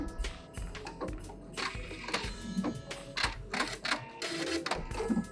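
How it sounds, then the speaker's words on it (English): A sewing machine stitches fleece and satin for slippers in quick rattling bursts, stopping and starting several times, close and fairly clear with no speech. "go ahead and sew it down. Overlap your stitches, back stitch, and cut"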